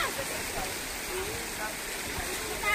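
A small waterfall on Mumbra hill gives a steady, broadband rush of falling water that stays even and moderately loud throughout, with people talking over it.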